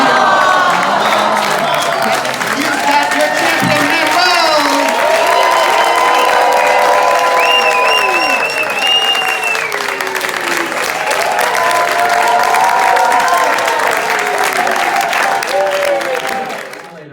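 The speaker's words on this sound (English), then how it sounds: "And therefore we will most mercifully applaud you." A live audience at the Bay Area Pun-Off bursts into sustained applause, with cheers and scattered whoops rising over the clapping, loud and full for many seconds before tapering off at the end.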